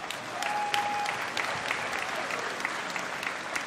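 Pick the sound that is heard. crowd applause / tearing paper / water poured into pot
crowd applause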